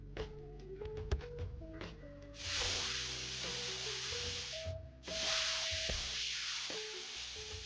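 A pressure washer spraying dirt off surfaces in a cleaning video game gives bursts of loud steady hissing spray, with sustained game music tones running underneath.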